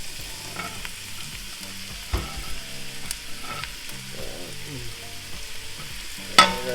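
Chopped carrots and onions sizzle and fry in olive oil in a pot, a steady close crackle with occasional stirring clinks and a sharp clank near the end.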